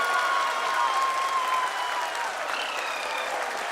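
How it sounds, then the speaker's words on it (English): A crowd watching the Chandrayaan-3 lunar landing claps in a steady, dense burst that holds throughout and softens slightly midway, with a faint tone in the background. "People are applauding."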